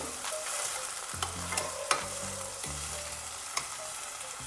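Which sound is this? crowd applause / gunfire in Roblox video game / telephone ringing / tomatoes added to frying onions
tomatoes added to frying onions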